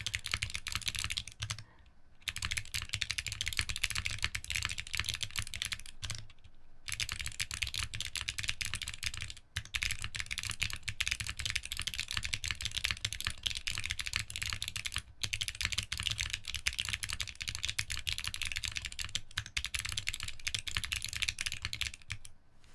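Steady, fast typing on a gold Arc60 mechanical keyboard fitted with cream clicky switches, the dense clatter of keystrokes running close and continuous, broken only by a few brief pauses.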